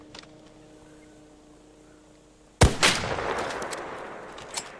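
A single loud gunshot from ARC Raiders cracks out after a quiet stretch, followed by a brief echo and a lingering rumbling tail.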